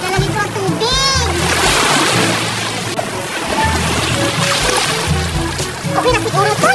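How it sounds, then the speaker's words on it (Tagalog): Sea water splashes and sloshes as it is poured into a container at the beach, mixed in with voices and other busy background sound throughout. "Lalagyan ko ng tubig."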